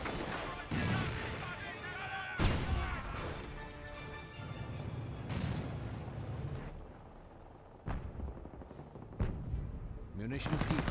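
Gunfire and a frag grenade in Company of Heroes, with repeated sharp blasts and crackling shots over the rumble of battle, and a voice talking over the fighting.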